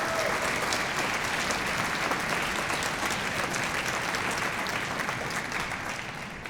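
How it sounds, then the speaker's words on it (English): High school honor band audience gives a big round of applause, a full, continuous roar of clapping that holds steady for several seconds and eases slightly at the end. "Can we give them a big round of applause"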